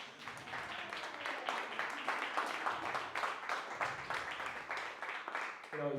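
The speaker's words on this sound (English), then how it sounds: "a round of applause to those individuals who came up here" A seminar audience gives a round of applause to volunteers who came up front, moderately distant clapping from a modest crowd with individual claps audible in a loose, uneven rhythm that swells and dips throughout.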